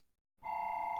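A telephone ring sounds after a brief silence, a steady bright electronic tone starting abruptly and holding to the end.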